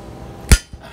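Hammer forging pamor material from Luwu, Sulawesi, using traditional fold forging. One loud, sharp blow lands up close, followed by a faint, softer knock.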